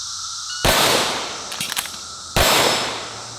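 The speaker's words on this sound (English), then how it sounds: "So 2 shots with the reload under 2 seconds" A race gun fires two sharp, loud shots about two seconds apart, with the metallic clatter of a magazine reload between them.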